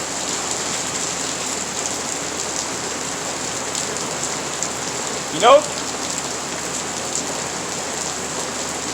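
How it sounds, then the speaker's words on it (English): Rain falls steadily outdoors as a dense, even hiss of drops on surfaces, continuous from start to end, with a brief spoken word near the middle. "Oh, it's kind of raining over here."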